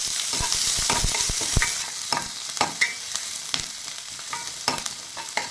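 Steady sizzle of onions frying in oil with mustard seeds and urad dal, punctuated by scraping and stirring clicks from a spoon against the pan.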